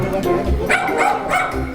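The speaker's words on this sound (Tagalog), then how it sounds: "Yung aso nila, maingay masyado." A household dog in Nepal barks in a few sharp, loud bursts close by, and a little background chatter can be heard in between the barks.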